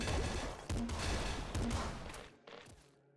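A grenade launcher fires in the video game Nuclear Throne, with a dense run of punchy explosive bursts for about two seconds, then one last short blast before the sound cuts to near silence.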